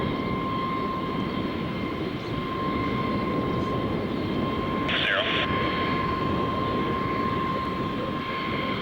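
An aircraft on the runway gives off a steady engine drone with a constant tone, heard at a distance under radio-style talk and a short burst of static.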